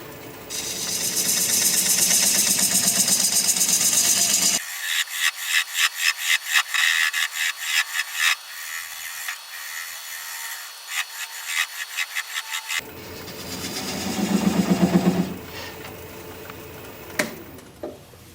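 A wood lathe spins a bowl blank while a gouge cuts under the tenon, a loud continuous scraping hiss broken midway by a run of rhythmic rubbing strokes, then steady cutting returns with a louder surge near the end.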